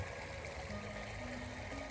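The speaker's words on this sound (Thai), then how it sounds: "เป็นป่าเป็นดงน้ำไหลผ่านหินขึ้นมา" A natural stream in rural Laos runs over rocks through forest, giving a steady close rush and trickle of water that stays even and unbroken from start to finish.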